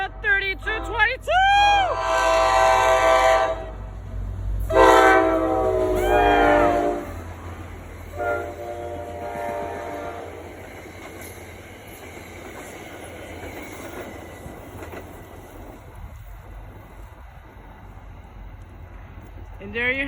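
New Jersey Transit / Metro North train 2117 passes Anderson Street Station, a sustained rumble of rolling cars with horn blasts early on, fading toward the end, with voices over it at first.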